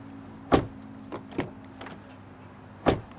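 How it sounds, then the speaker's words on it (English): Several sharp thuds and clicks of a Genesis GV70 car door being opened and shut, with mechanical latch clunks spaced irregularly, close by and fairly loud. "Door sound check in Genesis."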